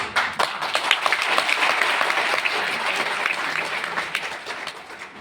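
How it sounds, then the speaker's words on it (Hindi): An audience gives loud, sustained applause, dense clapping swelling quickly and then slowly thinning toward the end, close and full with no speech on top. "तो सर के लिए एक बार जोरदार तालियां होनी चाहिए"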